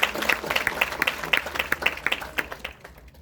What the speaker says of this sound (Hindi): आप अपने लिए भी तालियां बजा लो एक बार